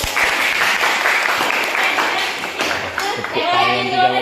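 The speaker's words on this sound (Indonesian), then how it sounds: "Oke, tepuk tangan dulu." A classroom of students claps together in a loud burst of applause, with young voices chattering as it fades.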